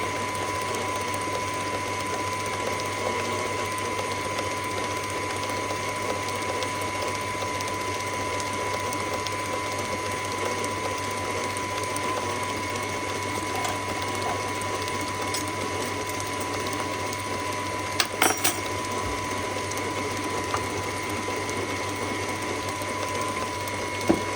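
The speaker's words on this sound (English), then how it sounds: "let's let this mix for a little bit longer" An electric mixer beats red velvet cake batter with a steady, continuous mechanical whir and rattle at moderate volume, broken only by a couple of brief clicks, with no talking.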